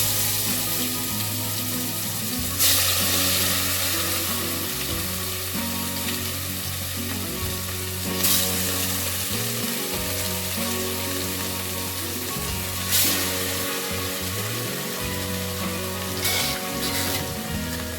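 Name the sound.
rohu fish frying in hot oil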